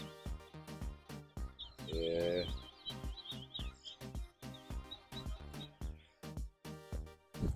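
Small caged display birds chirp and call at a bird show, producing rapid repeated bright tweets with a short warbling trill, loud and close, with no talking.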